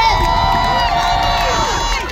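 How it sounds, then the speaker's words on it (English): A festival crowd at SabaideeFest 2024 cheers and shouts for the DJs, a loud, continuous mix of voices and whoops with a sustained tone running through it. "a big round of applause to our DJs for killing it"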